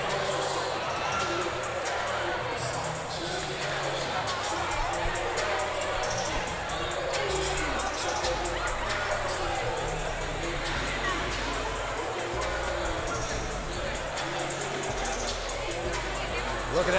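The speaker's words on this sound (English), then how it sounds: "This crowd is ruckus." Packed-house crowd at a high school basketball game between Therrell and Southwest Dekalb, a steady dense roar of voices and babble with basketball bounces mixed in, continuous and loud throughout.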